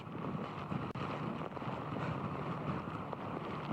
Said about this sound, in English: a hurricane that's dishing out 75-mile-per-hour winds with gusts that are higher than that